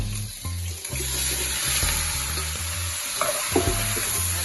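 Shrimp for a Caribbean peppered shrimp dish frying in hot oil with peppers on a high flame, stirred continuously. A loud, close, steady sizzle is heard with scraping and clatter from the stirring, and nobody speaks.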